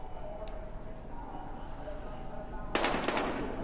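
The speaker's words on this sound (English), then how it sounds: "We've got gunshots." Gunfire in an action video game bursts out abruptly as a loud crackling volley near the end, after a stretch of steady rumbling ambience, with talk mixed in.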